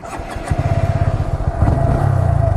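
A motorcycle engine idles with a rapid pulsing chug, then its revs climb and hold higher, loud and close, while the rider works up to a wheelie.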